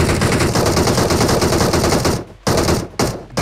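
Loud, rapid automatic gunfire from BGMI (PUBG Mobile) rattles almost nonstop, broken by two short gaps near the end before the bursts resume.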